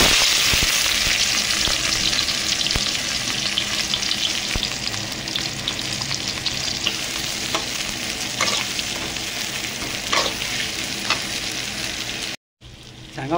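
Onions fry in hot mustard oil for a fish curry, a loud, dense sizzle that runs steadily throughout, with occasional stirring clicks and a brief dropout near the end.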